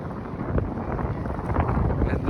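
Wind buffeting the microphone at a dam in rainy weather, a low, steady rumble with gusty swells, fairly loud throughout.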